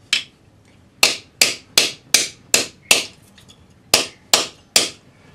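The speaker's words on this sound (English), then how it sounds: "we're going to just hammer this into our block, our wooden block." A tapered hammer strikes a metal pendant into a groove cut in a wooden block, about ten sharp, bright taps at an uneven pace with short ringing decays, close and alone.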